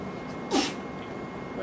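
One brief, muffled sneeze cuts through a steady room hum, fairly faint and a little distant, with no other sounds around it.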